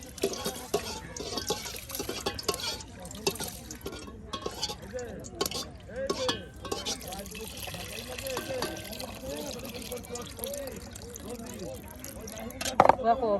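Rice and lentils are swished and rinsed together in water in a cooking pot for bhuna khichuri, giving soft sloshing, trickling and dripping splashes at a moderate distance while people talk over them.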